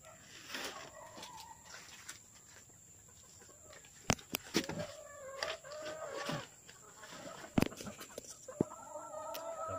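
Hens cluck and murmur in short scattered bursts at moderate distance near a small hut, with a few sharper knocks and a faint steady high whine in the background.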